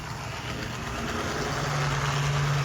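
A Tetsudo brass F3A model locomotive runs along the track with a constant, noisy motor whir and a rising, buzzy hum, close and steady with no voices.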